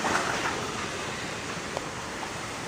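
Big ocean waves along the Quezon Province shore during a typhoon, a constant rushing surf roar mixed with wind noise, fairly close and steady with a couple of faint sharp knocks.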